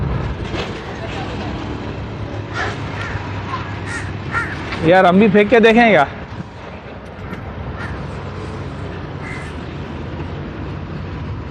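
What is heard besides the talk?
flock of kites calling over thrown lungs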